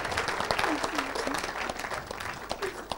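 A congregation claps and acclaims during a church service, with dense overlapping hand claps mixed with raised voices and cheers at a moderate distance.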